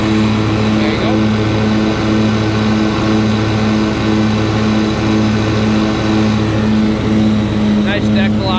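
A Sentar riding lawnmower with a 12.5 hp Briggs & Stratton V-twin engine runs steadily with its mowing deck engaged, a loud constant drone with strong even harmonics throughout, and a brief voice near the end.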